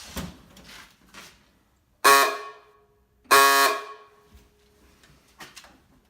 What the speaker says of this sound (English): a sound that in Model T Ford owner circles is called the sick duck